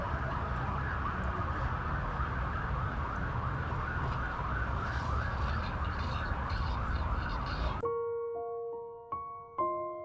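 Sirens wail through dense city traffic in São Paulo, wavering rising-and-falling tones over a thick rumble of engines and horns, cutting abruptly to a few sustained electronic tones near the end.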